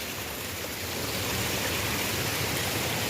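Clean stream water rushing along the Ingleton waterfalls trail, a steady dense wash of flowing water, close and loud with no voices.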